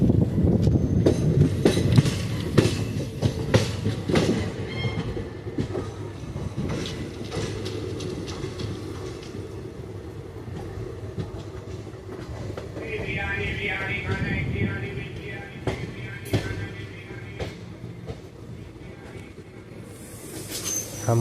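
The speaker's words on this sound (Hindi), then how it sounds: "हम धीरे धीरे स्टेशन पे प्लेटफॉर्म पे इंटर कर रहे हैं।" A special train slowly enters Kazipet junction station, with rumbling wagons, rhythmic clickety-clack over rail joints and a sustained wheel squeal midway, heard from on board.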